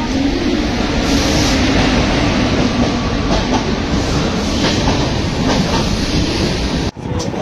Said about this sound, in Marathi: फायनली मित्रांनो, आपली ट्रेन चालू झालेली आहे.